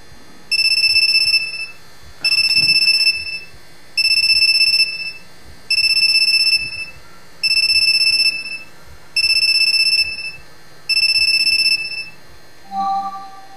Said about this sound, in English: Alright, so next time, gonna answer that cell phone.